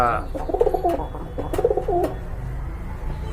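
Large pigeons cooing close by in a loft, two rounded, throaty coo phrases in quick succession over a low background murmur.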